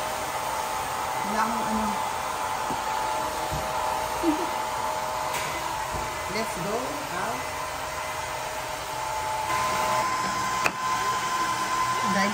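A hair dryer blows steadily and close by for the whole stretch, a constant whooshing roar, while people talk casually over it.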